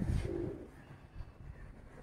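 Pet pigeons coo close by in a low, soft burble, one throaty call at the start followed by quieter murmuring, with no talk over it.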